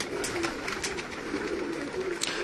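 Pigeons kept for sport on a rooftop give soft repeated coos over a continuous airy hiss, the calls recurring at a moderate distance with no speech.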